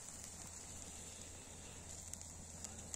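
An outdoor campfire at a winter camp burns as small pieces of wood are added, a faint steady hiss with scattered soft crackles and occasional small pops.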